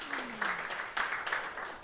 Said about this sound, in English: A round of applause to our jury members for their great work.